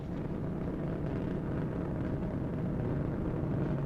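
Space Shuttle Endeavour's three liquid-fuel main engines at launch make a continuous, dense, deep roar with a steady, unbroken rumble throughout.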